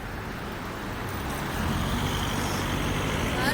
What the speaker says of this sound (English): Cars are coming pretty fast.